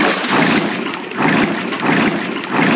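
Flowing water in the Minecraft video game loops as a loud, sloshing wash that swells and fades in regular pulses under a second apart, with no talk over it.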